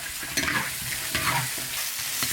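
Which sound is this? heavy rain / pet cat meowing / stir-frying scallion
stir-frying scallion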